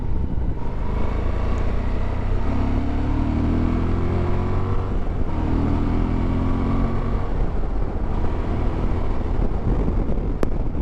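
A Suzuki V-Strom 1050 motorcycle on a ride, its engine droning steadily with rising and falling revs under heavy wind rush, loud and close throughout.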